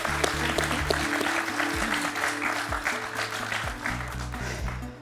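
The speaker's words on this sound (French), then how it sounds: "Je crois qu'on peut l'applaudir." A studio audience on a televised quiz show applauds a contestant, a dense sustained wave of clapping from many hands, with music playing underneath and the applause fading at the very end.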